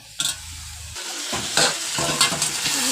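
Chicken curry with potatoes being sautéed in a pan, a spatula scraping and stirring over a soft sizzle, with a few sharper clinks of metal against the pan.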